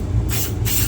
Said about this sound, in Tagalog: spray dito sa headers natin kasi number one, it's part of the directions that we have to spray